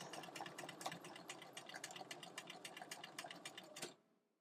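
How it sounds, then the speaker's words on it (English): A sewing machine stitches down a chenille hot pad, a steady rapid mechanical rattle of needle strokes running continuously close by, then stopping abruptly near the end. "I can go to the sewing machine and stitch it down"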